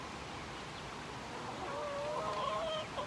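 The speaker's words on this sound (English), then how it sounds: "I'm going to go ahead and feed the meat birds right here" Meat chickens clucking at feeding time, a soft, fairly distant cluster of calls and short tonal clucks that swells in the second half over quiet barnyard ambience.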